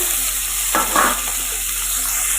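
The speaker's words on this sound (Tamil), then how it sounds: "சாம்பாருக்கு வெங்காயம் வதங்கின்னு இருக்குது" Onions sautéing in a hot pan for sambar make a steady, loud frying hiss, with a brief stronger stirring scrape near the start.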